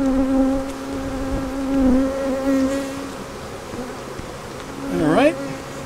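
Agitated honey bees at a beehive buzz close and loud in a dense swarm, with individual bees droning past and one sharp swooping buzz near the end.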